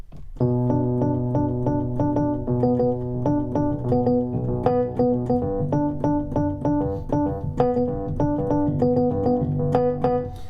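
Piano plays a steady verse of repeated chords from a song with a rhythmic right-hand pattern, clear and close, no talking.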